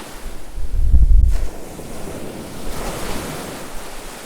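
Baltic Sea waves washing onto a sandy beach at Kołobrzeg, a steady surf wash with one louder surge early on and wind rumbling across the microphone, no voices.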